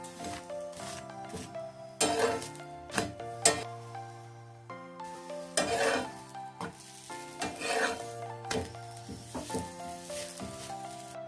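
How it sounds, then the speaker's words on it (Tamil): A chapati cooks on a pan and is flipped to both sides, giving a soft, faint sizzle with a few scraping touches under steady background music. "சப்பாத்தியை 2 பக்கமும் திருப்பி போட்டு எடுத்துக்கலாம்."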